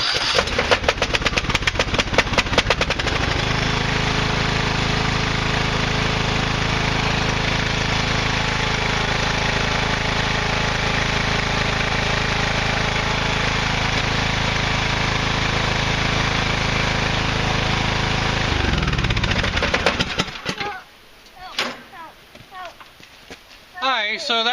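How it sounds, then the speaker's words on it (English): A single-cylinder 20 hp Husqvarna engine, a rebranded Briggs & Stratton, jump-started with a GOOLOO jump starter, cranks and then runs loud and steady with a rough drone for about seventeen seconds before cutting off, leaving quieter handling noises. "that was a single cylinder 20 horsepower Husqvarna engine, which actually is a rebranded Briggs"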